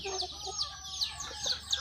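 A flock of hungry farmyard chickens clucks in short, bright bursts, several calls overlapping at moderate loudness over a low background hum.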